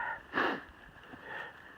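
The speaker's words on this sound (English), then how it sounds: "sorry for all the sniffling." A person sniffles on a cold, windy trail campsite, one sharp nasal intake followed by a softer, longer breathy sniff, close and quiet with no talk.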